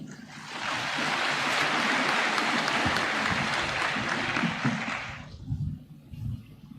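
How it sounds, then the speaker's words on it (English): An audience at a commissioning ceremony breaks into loud, sustained applause lasting several seconds, then tapers into scattered claps and a voice over a public address system. "Another round of applause for the Deputy Commandant."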